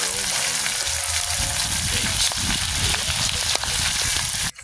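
Chopped garlic and onions sizzle steadily in a pan with ginger while exotic snails are being cooked, a loud continuous hiss with occasional light clatter, ending abruptly.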